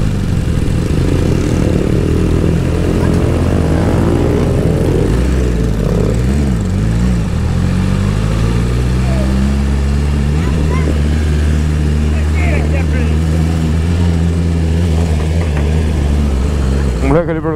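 A BMW S1000RR sportbike with a downward-pointing exhaust roars while being ridden up a hill, loud and close, its engine note dropping and rising through gear changes, with a rider and passenger talking over it.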